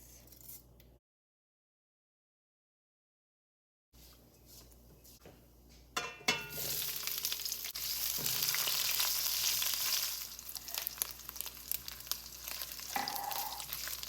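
Mustard and cumin seeds crackle in hot oil, a short quiet stretch and a silent gap giving way to a loud, dense, sustained sizzle with sharp popping that carries on to the end.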